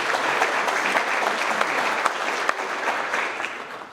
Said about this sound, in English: Let's make some noise for Ash.